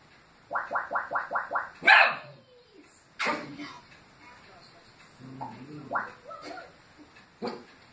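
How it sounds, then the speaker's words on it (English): A dog barks in a quick run of six sharp, evenly spaced barks, followed by a louder yelp and scattered whimpers and yips, fairly close and otherwise alone. "my dog will never stop barking"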